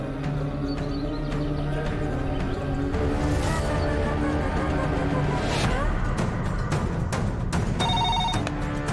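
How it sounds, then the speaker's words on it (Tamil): A telephone rings as a call is placed in a Tamil TV drama, a repeating electronic ring set against a loud, dense musical background. "சரி, நம்ம மாரிக்கு போனை போடு."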